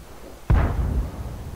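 A single sharp video game gunshot with a booming low-end crack, followed by a rumbling tail and steady background noise.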